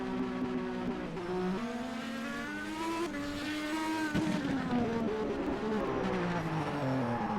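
A 2019 IndyCar race car with number 82 speeds down pit lane at the Indianapolis Grand Prix, its engine a loud, steady high-pitched whine that shifts pitch as it passes, running continuously with no talk over it.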